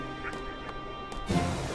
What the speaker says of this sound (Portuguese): Eita, uma galinha gigante.